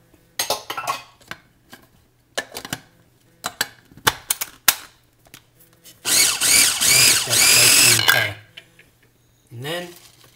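A food processor blending spring onion pesto gives a string of short, sharp clattering pulses, then one steady whirring run of about two seconds, with a brief voice near the end.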